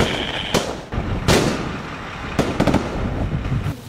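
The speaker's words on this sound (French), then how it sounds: "mais les coups de feu sont audibles." Gunfire rings out during a military operation on the ground: several sharp, loud bangs with irregular spacing, one quick cluster of shots in the middle, over a low background rumble.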